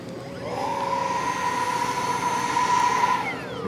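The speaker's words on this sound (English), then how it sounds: "taxiing the P-80 in" A radio-controlled electric ducted fan P-80 Shooting Star jet taxis at an RC airfield, its fan making a steady high whine that holds level, then tapers near the end.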